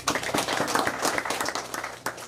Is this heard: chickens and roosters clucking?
no